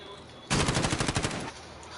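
SCAR rifle fire in the video game Call of Duty: Modern Warfare, one loud, close automatic burst of roughly a dozen rapid shots lasting about a second, with quiet game ambience before and after.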